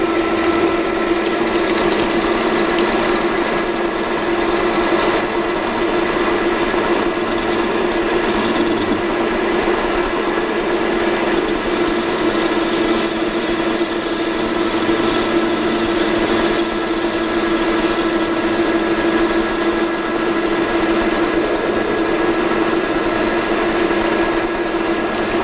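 A lathe takes a rough facing cut on a metal workpiece, giving a steady mechanical whirr with a sustained tonal hum and faint ratcheting texture, loud and continuous with no speech.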